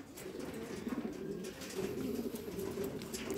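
Racing pigeons coo continuously inside a training loft in Lithuania, a steady layered murmur of soft, rolling calls from several birds at close range, with no talk over it.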